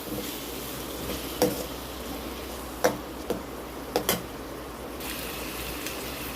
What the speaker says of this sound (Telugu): కట్ చేసుకొని వేయించుకోవాలి.